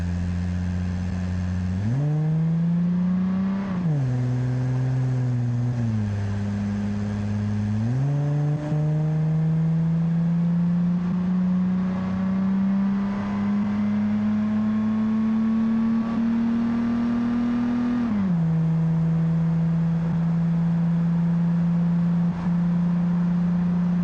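A car in the BeamNG video game accelerates hard along a freeway, its engine note climbing steadily through several gear shifts, loud and continuous with no talk.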